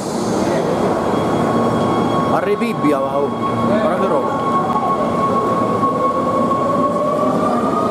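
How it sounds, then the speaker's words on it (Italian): A subway train pulls away with a steady heavy rumble and rising electric whine, wheels squealing briefly; a person speaks over it near the start. "Ora un po' la metropolitana che parte"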